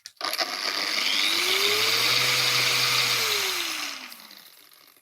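A VEVOR random orbital sander running at maximum speed gives a loud, steady whine with a rising then falling pitch as it spins up, holds, and winds down over several seconds.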